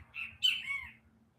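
A single bird gives a short, harsh squawk nearby after rain, a brief call heard alone against a quiet background.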